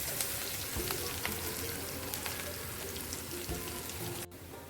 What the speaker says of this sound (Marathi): छान असं हलवत राहायचं आणि चांगलं परतून घ्यायचं आहे